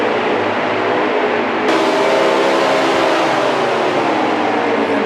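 A NASCAR race car engine in a video game, racing at Las Vegas, holds a loud, steady high-pitched roar. Its harmonics slide gradually lower toward the end, with no voices over it.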